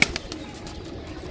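A pigeon coos softly a few times at close range, one bird among several being counted, over faint background noise.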